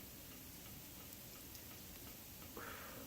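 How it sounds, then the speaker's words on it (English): Small ice pellets falling outdoors, a dense, faint, steady patter of tiny ticks across the whole stretch, with no voices. "Little ice balls, not heavy enough to hurt, not wet enough to be rain, not quite thick enough to be snow."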